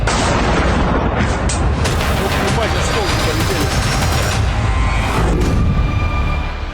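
Loud, continuous rumbling blasts and crackling booms from drone strikes in the Russia-Ukraine war overlap into a dense roar, with sharp reports breaking through the noise.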